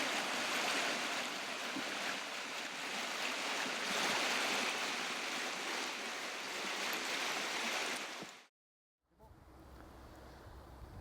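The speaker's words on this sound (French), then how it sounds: "on se trouve à l'endroit de la chute à Dupuis" The waterfall at Chute à Dupuis on the Rivière Noire-Nord-Ouest in the Appalachian park gives a steady, full, rushing roar of falling water, then breaks off abruptly and returns much quieter.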